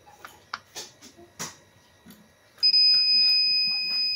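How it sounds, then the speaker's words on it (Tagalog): An AKS gold detector gives a sudden steady electronic buzz on detection, loud and sustained after a few soft handling clicks and thumps. "Nag-buzzer na. So ibig sabihin na may na-detect po siya, no?"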